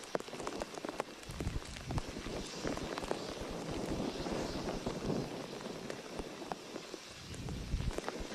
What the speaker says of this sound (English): the drizzle turns to a downpour as the train creeps nearer